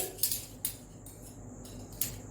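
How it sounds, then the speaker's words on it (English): Ten metal spoons held together in one hand clink faintly three times, with short gaps between the light metallic clinks and no talking. "That means I am having 10 spoons in my hand."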